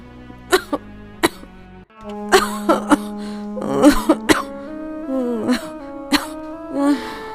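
Several harsh coughs and throat-clearing sounds from one person, close up, scattered irregularly with a low moaning voice between them.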